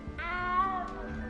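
Cat meowing in the video game Hogwarts Legacy: a single drawn-out, wavering meow close by, with faint game ambience underneath.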